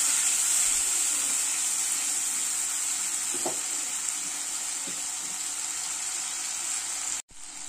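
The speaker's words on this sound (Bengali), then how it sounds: "আমি কিছুক্ষণ মশলাটা একটু ভেজে নিয়েছি।" Spice paste of ginger, cashews and melon seeds frying in a pan, a steady loud hissing sizzle throughout with a few faint clinks of stirring.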